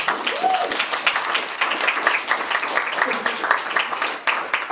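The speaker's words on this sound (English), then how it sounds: "a round of applause for Hillary for telling me to applaud" Applause from an audience at a literary reading: dense, sustained clapping with some crowd noise that holds steady and fairly loud throughout.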